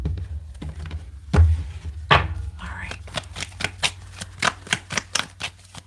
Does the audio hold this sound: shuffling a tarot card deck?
yes